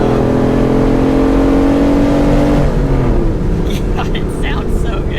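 A 600 hp Hemi V8 in a Jeep Wrangler hums at a steady 60 mph cruise, then its note shifts and climbs as it accelerates, heard loud from inside the vehicle.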